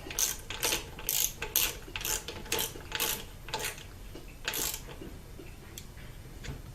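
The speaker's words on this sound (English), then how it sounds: "There's another one to torque into place here." A hand ratchet clicks in quick bursts while torquing a bolt on the intake manifold of a 2013 Subaru STi, with close, crisp pawl ratcheting in repeated short strokes that slow and fade near the end.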